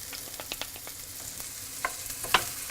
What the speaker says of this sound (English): we're going to let this go until the speck has become soft and is starting to exude some of its fat